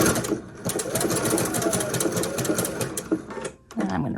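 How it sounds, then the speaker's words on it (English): A sewing machine running a zigzag stitch across overlapped fabric for a child's dress-up set, a steady fast mechanical whirring chatter that is loud and close, slowing and stopping near the end. "And I'm just going to sew just across."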